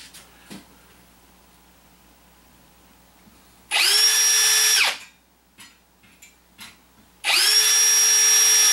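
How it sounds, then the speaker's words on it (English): A power drill with a small 5/64 bit runs in two loud bursts of about a second each, whining up to speed and winding down, with quiet bumps and clicks between them. "I'm using a 5/64 drill bit."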